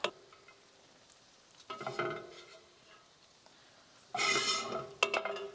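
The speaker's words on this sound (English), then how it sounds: "I'm going to now add the pine nuts back, stir that around" Pine nuts being stirred back into a pan of basil pesto with a utensil, two short bursts of scraping and rattling against the pan, moderately close with quiet gaps between.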